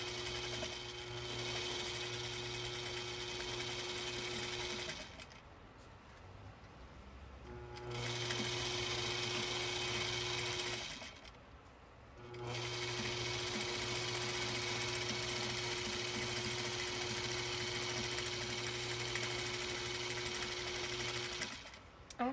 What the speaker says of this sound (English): just do a little back stitch to lock my stitch down